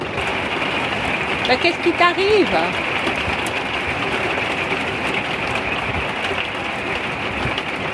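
Heavy rain shower during a summer thunderstorm with hail at a campsite in Le Vernet, Haute-Loire, a steady dense hiss of rainfall filling the whole scene, with a person speaking briefly over it near the start.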